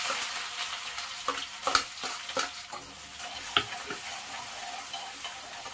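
Onions fry in oil after mustard seeds have popped, a continuous sizzle under irregular scrapes and taps of a stirring spoon against the pan.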